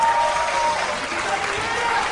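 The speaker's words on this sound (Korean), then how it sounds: "박수 한번 부탁드리겠습니다" Crowd applause at a Democratic Party convention eve rally, a continuous wash of clapping from a large audience, fairly loud and steady throughout.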